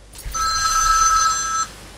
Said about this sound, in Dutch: Oh, telefoon.